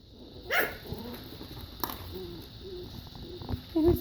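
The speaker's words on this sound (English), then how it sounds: "Oh, that little bark, that was from Emma, I believe" Small puppies in a litter make a short yipping bark near the start, followed by a few fainter yips and whimpers over quiet room sound, with soft human speech in the background.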